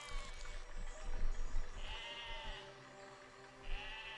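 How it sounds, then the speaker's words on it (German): Sheep bleat in the video game Besiege, a few faint drawn-out calls sitting in a busy, noisy mix of in-game sound. "Schafe, lasst mich in Ruhe."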